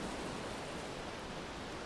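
Ocean surf rolls onto a pebble beach scattered with driftwood, a dense, steady roar of breaking water with no pause across the short stretch.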